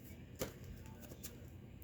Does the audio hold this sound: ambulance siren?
no